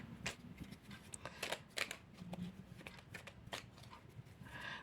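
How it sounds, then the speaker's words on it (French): Tarot cards are shuffled and drawn by hand, making a quiet, continuous run of soft riffles, slides and light slaps with no talking. "je vais tirer une dernière carte qui va conclure en tout cas ce tirage-là"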